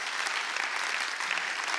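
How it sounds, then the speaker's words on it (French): Dense, continuous audience applause at a conference, a steady wash of many hands clapping at an even level throughout. "on peut les applaudir"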